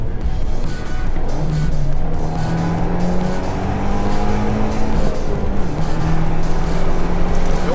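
An Abarth 124 Spider's turbocharged engine drones loudly and continuously along winding roads, its pitch climbing slowly and then dropping back as the car accelerates, with steady road noise underneath.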